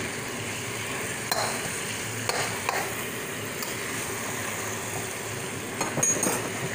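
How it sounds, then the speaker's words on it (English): Chicken adobo fries in a pan as vinegar and soy sauce go in, giving a steady close sizzle with occasional light clinks and scrapes of a utensil against the pan. "now I'm going to put the vinegar and soy sauce combination"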